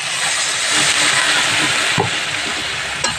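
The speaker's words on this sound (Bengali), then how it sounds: "এবারে আমি জলটা দিয়ে দেবো খুব বেশি জল দেবো না" Water goes into a pan of well-fried spice paste for a Bengali tengra fish curry with potato and eggplant, giving a loud steady hiss and steam roar with a sharp burst near the middle and another toward the end.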